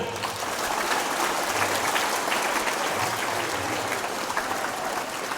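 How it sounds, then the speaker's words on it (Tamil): A big round of applause at a school groundbreaking ceremony, with dense, steady clapping from a crowd that keeps up at an even level throughout, with no voices on top. "ஒரு பெரிய கைத்தட்டல்."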